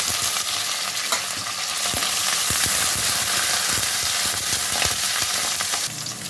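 Onions, curry leaves and green chilies sizzle steadily in hot oil for an eggplant and dry fish curry, a dense continuous frying hiss with occasional crackles and stirring clicks, close and loud throughout.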